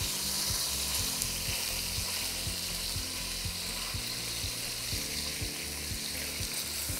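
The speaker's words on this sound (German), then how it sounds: "Einmal rundherum alles anbraten." Continuous sizzle of ox cheeks searing in a pan, with regular scraping strokes of a utensil throughout; close and fairly loud, no talking.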